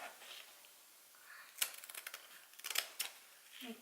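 Scissors snipping ribbon for a Christmas tree decoration, a few close, crisp cutting sounds in two short bursts after a quiet start, with no voices.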